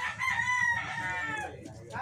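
A gamefowl rooster crows on a game farm, one clear, fairly close cock-a-doodle-doo lasting about a second and a half, with clucking and faint yard noise after it.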